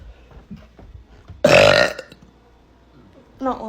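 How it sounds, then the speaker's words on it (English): A child lets out one loud, drawn-out burp lasting about half a second, standing out clearly between quieter bits of talk and background noise. "I have a burp coming."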